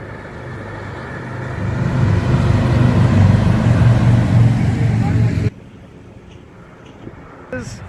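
A heavy armored presidential state limousine, the Beast, rumbles past at close range with a loud, steady low engine and road roar for several seconds, then cuts off abruptly to quiet outdoor ambience, with talk over it.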